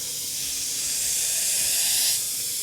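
Eclipse gravity-feed airbrush spraying paint from a distance, a steady close hiss of air and atomised paint that swells slightly before easing off, with no talk.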